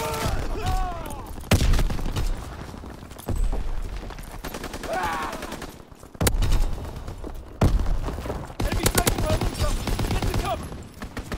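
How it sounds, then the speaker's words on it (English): Gunfire and mortar explosions in the Shipment 1944 video game come as a loud, continuous fusillade with repeated heavy impacts and dense rapid bursts, and radio-style voice callouts sound intermittently underneath. "Enemy mortar fire incoming."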